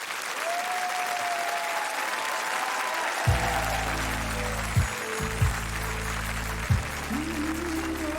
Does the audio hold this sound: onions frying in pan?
no